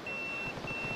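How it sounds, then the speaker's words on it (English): A pager in the video game Yakuza 0 sounds a steady high electronic tone in two long beeps over a busy background of game ambience and low rumble. "My pager's beeping."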